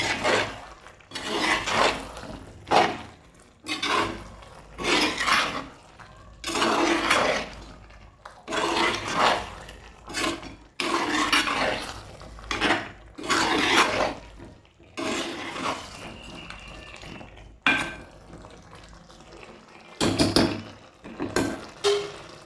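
A spoon scrapes and rubs through Kerala-style chicken roast masala in a pan, sounding as a run of rhythmic, gritty strokes broken by short pauses, close and moderately loud, with no talking.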